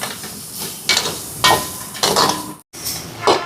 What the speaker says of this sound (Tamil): மிளகுத்தூள், மஞ்சள் தூள் கலந்துடுவோம்